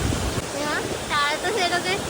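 A waterfall rushes as a broad steady roar outdoors, partly buried under voices talking over it, with wind gusting.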